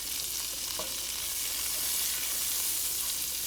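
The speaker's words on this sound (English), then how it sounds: "We're going to cook them until they're blistered and they start to pop." Whole grape or cherry tomatoes sizzle in a hot frying pan, giving a steady, close, hissing fry with no talk throughout.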